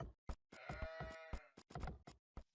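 Sheep in the strategy video game Age of Empires bleat in a drawn-out wavering cry, set among short sharp knocking hits that come before and after it, all close and clear with no talk.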